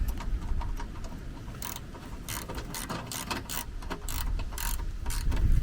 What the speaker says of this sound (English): I'll just back off that 19mm nut just slightly so it's kind of out of the way, and then do the same thing and tighten this one up